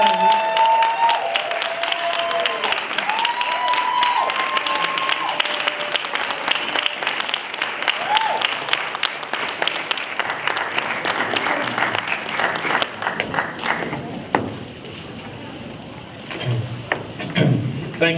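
A standing audience applauds to welcome a speaker to the stage at a talk on Black history and reparations. Dense sustained clapping fills the whole span, with scattered voices and whistles, and thins somewhat near the end.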